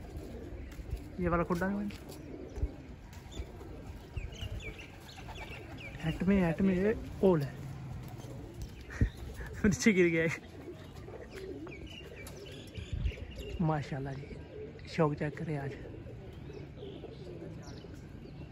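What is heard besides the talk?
pet pigeons cooing in their coop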